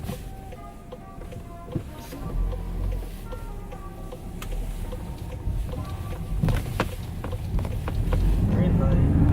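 Cabin sound of a 2019 Volkswagen Golf R on lowering springs, driven in comfort mode: steady road and engine rumble that swells gradually toward the end, with faint ticks and no talk.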